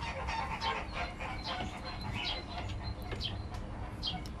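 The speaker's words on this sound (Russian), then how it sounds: "Это птички какие-то. А что за птички?" Small caged birds in a city park chirp and call in scattered bursts over a low outdoor rumble, moderately distant and fairly faint.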